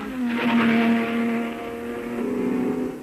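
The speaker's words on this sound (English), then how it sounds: "Then comes the long straight, Les Unadières, where the drivers go all out at times touching nearly 200 miles an hour." Racing cars at the 1968 24 Hours of Le Mans roar loud and close down the long Mulsanne straight at nearly 200 mph, the engine note rising and swelling as they pass, with no voices.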